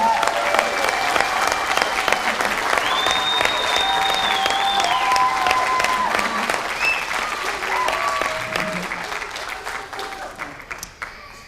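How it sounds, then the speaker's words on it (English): Sustained applause from a large crowd at a high school commencement, continuous clapping that swells and then slowly fades while background music tones and faint voices mingle underneath. "let's give them a round of applause for that"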